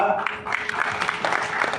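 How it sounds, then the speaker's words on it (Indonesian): An audience at a national coordination meeting on civil-service contract staff claps steadily for about two seconds, the applause mixed with talk in the hall. "Woi, tepuk tangan buat K2."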